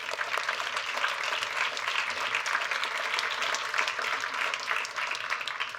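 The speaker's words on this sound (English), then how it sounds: "take one more full round of applause," Full round of audience applause at a standing ovation after a panel on voting in America, dense steady clapping from a large crowd holding at even loudness throughout, with no talk over it.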